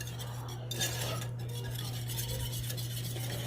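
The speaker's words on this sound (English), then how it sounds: "it's starting to simmer and I need to stir it" A spoon stirs a thick mornay sauce with dry cheeses simmering in a pot, a steady soft scraping and clinking against the metal over a continuous low hum from the stove.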